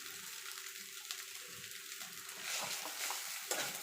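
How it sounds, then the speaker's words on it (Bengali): Egg chowmein seasoned with pepper powder is stirred in a pan, a soft, continuous sizzle with scraping and tossing, faint and close, with no talking. "এবার ভালো করে মিশিয়ে নেব।"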